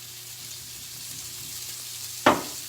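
Oil sizzling in a pan while risotto cooks, a low steady fry hissing quietly throughout, then a sharp louder crackle near the end as more oil goes in.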